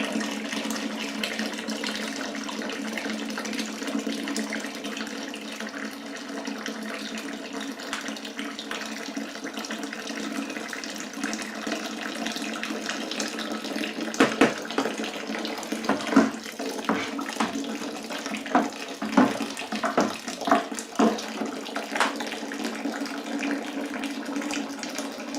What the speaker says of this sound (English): we'll add some hot water, give her a stir, drain it again